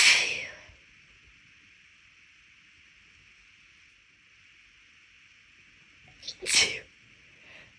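A loud, close human sneeze bursts out at the start; a long stretch of steady background hiss follows, then a second sharp sneeze near the end.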